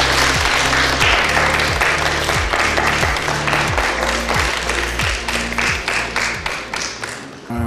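Loud audience applause greeting the finalists of a women's makeover project on a makeshift stage, with many hands clapping continuously over rhythmic pulsing background music, fading a little toward the end.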